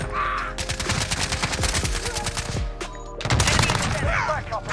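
MP5 submachine gun fired in Call of Duty Modern Warfare, long rapid automatic bursts with a brief gap between them, loud and close, with a voice speaking faintly underneath.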